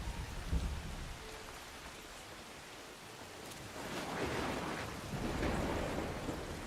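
Steady rain pours down in the video game Assassin's Creed Shadows, with a low rumble of thunder swelling in the background, moderately quiet and continuous, no voices.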